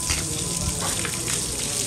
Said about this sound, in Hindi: थोड़ा थोड़ा यहाँ से पानी मार देंगे